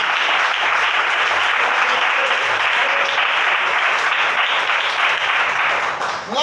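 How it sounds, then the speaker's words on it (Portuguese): Church congregation clapping steadily and loudly throughout, a dense continuous wash of palms with no speech on top. "A igreja bate as palmas para Jesus."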